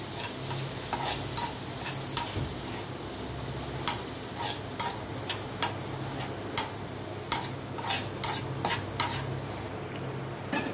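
Grated carrot being stirred in a pan, with a soft sizzle underneath and regular sharp ticks of a spoon scraping the pan, roughly one per second, close and fairly quiet.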